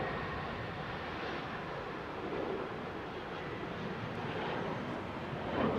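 Aircraft passing overhead at London Heathrow during 27R departures, a broad steady engine roar that holds fairly constant throughout, distant to moderate in level.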